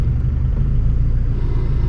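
A 1996 Honda Civic EK coupe engine idles with a steady low rumble, a faint metallic clutch rattle like a ringing bell running through it, close by and with no voices.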